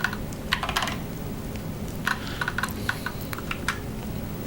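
Fingers tap away on a computer keyboard in quick, irregular bursts of clicks with brief pauses between, close and fairly quiet, no voices.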